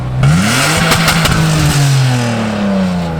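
An ethanol-fuelled car engine in a swapped car revs hard close by, a loud sustained roar that climbs and sweeps in pitch before settling back.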